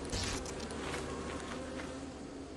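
A swarm of bees in a video game buzzes in a steady, dense drone, close and loud, with faint patter-like flutters layered over the hum.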